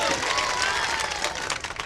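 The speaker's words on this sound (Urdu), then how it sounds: "ایک بار زوردار تالی بجائیے" An audience at an Urdu poetry mushaira breaks into loud, dense applause, sustained clapping from a large crowd throughout with no speech over it.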